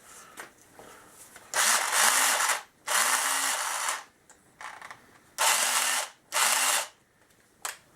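A Makita 18 volt cordless drill runs in several loud whirring bursts of a second or so each as it undoes a screw, separated by quiet gaps with small clicks and handling noises.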